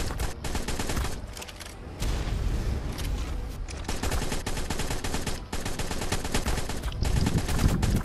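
Rapid bursts of automatic gunfire from guns in the video game Ark rattle loudly and densely, overlapping volleys continuing across the whole stretch with only brief dips between bursts.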